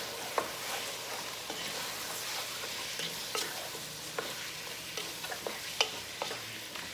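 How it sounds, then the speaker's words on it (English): Beef and bean stew seasoned with red paprika and cumin is stirred in a pot, a steady low sizzle with scattered sharp scrapes and clicks of the spoon against the pot. "Now we're gonna mix it again."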